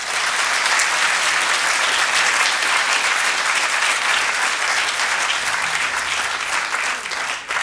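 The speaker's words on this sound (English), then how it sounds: "let me ask for a warm and welcoming applause for Mr." An audience at a John Adams Institute evening event applauds to welcome author Christopher Caldwell, a loud, dense, steady wash of many hands clapping that holds for several seconds and tapers slightly at the end.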